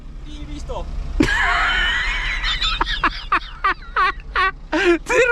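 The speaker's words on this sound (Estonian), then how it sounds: "Kalkun." A turkey gobbles in a rapid, loud burst of warbling calls, followed by a series of short choppy fowl calls and voices, with background noise throughout.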